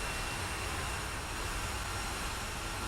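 A steady, even roar of an A320 airliner jet engine in the Prepar3D v3.1 flight simulator, unbroken and constant throughout.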